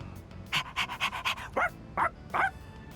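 A dog in the video game Persona 3 Reload pants in quick rhythmic bursts, then gives three sharp, separate barks, clear and close over a faint background hum.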